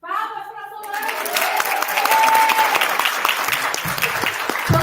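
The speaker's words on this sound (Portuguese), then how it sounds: "Palmas para Solange!" After a spoken word, applause from the audience at a leadership speaking talk swells and holds as a dense, steady round of clapping, with a few voices underneath.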